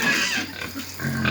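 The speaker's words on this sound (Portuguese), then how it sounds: "Dá um banho no porco, né?" A pig on a farm being washed with a hose grunts and oinks close by, a short burst of snorting over the hiss of running water.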